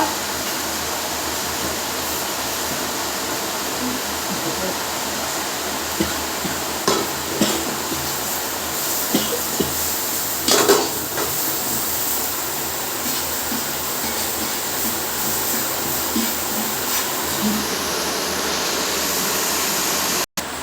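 Onions sizzling steadily in a hot pan for a Kerala-style chicken curry, a dense continuous frying hiss that holds evenly throughout with a few small crackles and scrapes and no voices.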